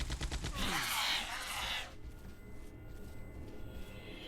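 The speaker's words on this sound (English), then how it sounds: "I have a Gatling gun with your name on it up ahead." A Gatling gun turret firing in the video game Entropia Universe, a fast loud rattling burst that cuts off abruptly, followed by a low quiet background.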